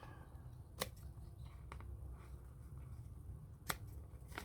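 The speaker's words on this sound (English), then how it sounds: "I'm going to snip that open so it flattens down" Scissors snipping open paper while decorating a journal, two crisp distinct snips about three seconds apart plus a faint smaller cut, close and quiet against a soft room background.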